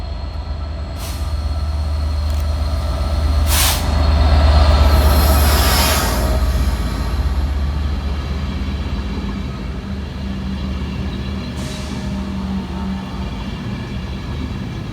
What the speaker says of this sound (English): Arriving 12 minutes late with stock HD06 is 67022, working the 1530 Transport for Wales service from Cardiff Central